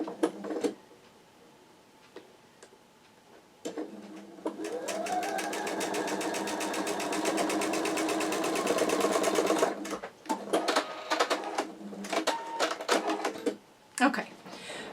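Sewing machine stitching quilt block fabric pieces with a leader scrap, a steady fast mechanical whir of several seconds, close and loud, preceded and followed by short bursts and a person talking nearby.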